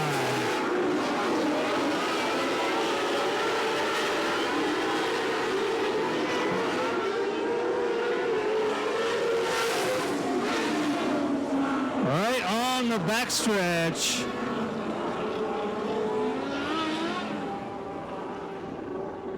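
A-Class race cars roar around the oval at KAM Raceway, their engines a loud continuous drone with one car sweeping close past mid-clip, while an announcer talks over the racing.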